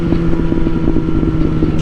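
A Suzuki GSX-S 750 motorcycle engine runs steadily at close range, a loud, even idle-like throb with rhythmic low pulses and a touch of wind noise.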